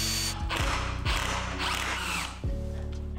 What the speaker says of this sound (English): I'm starting first by drilling a couple of pilot holes and then half sinking some screws.